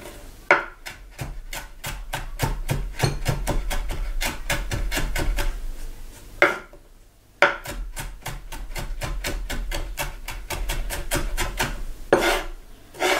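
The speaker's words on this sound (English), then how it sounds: "chop it up to small pieces." A knife chopping food into small pieces on a board: quick, evenly spaced strokes in two long runs separated by a short pause, close and crisp, with no talking.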